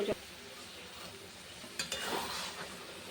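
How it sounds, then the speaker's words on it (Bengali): Chilli chicken masala with sauce is stirred in a pan, a faint sizzle with soft scraping and a couple of louder spoon strokes, close and low in level. "এবার একটু নাড়াচাড়া করে নিই।"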